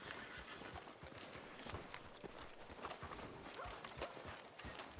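Steady hoofbeats of a horse walking along a town street in Red Dead Redemption 2, a regular clopping rhythm of moderate loudness that carries through the whole stretch over quiet ambient game noise.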